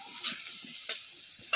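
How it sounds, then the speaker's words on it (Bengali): Two large chopped onions fry quietly in a pan, a soft sizzle punctuated by three sharp scraping strokes of a spoon stirring them, close with no speech. "পেঁয়াজটা ভাজা হোক।"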